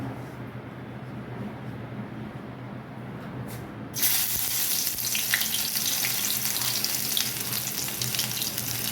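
Garlic hits hot oil in a village kitchen pan, starting a loud, close, continuous sizzle that follows a few seconds of quieter background hum and keeps crackling evenly to the end.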